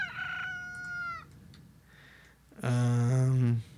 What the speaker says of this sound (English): roosters.